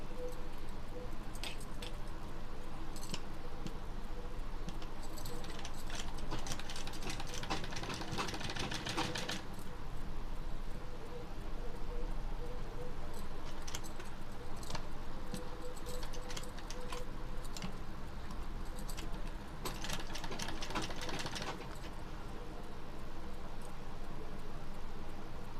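A sewing machine stitches elastic onto fabric, producing quiet rapid mechanical clatter in bursts separated by short pauses, recorded at low level without speech.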